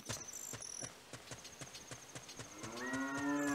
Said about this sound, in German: Ja, hier ist eine Kuh.